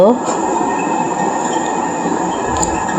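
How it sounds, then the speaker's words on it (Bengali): A night ride on an amusement park train at Adventure Land, Narayanganj, sends up a steady rolling rumble of wheels on track with faint squeals and a few clicks, close and continuous. "এই ট্রেনে উঠেছিলাম আমরা রাত করে"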